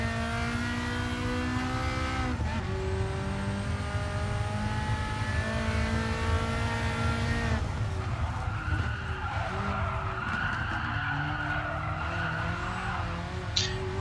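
A race car engine in the driving game Gran Turismo Sport drones loudly and continuously, its pitch climbing and dropping through gear changes, with tire skids over the last few seconds and no voices.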